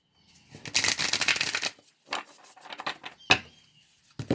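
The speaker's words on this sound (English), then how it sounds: "Okay, one more shuffle." A deck of cards gets shuffled by hand. A dense riffle flutter runs for about a second, followed by a few softer shuffles and taps, then a sharp snap of the cards squared together, close and alone.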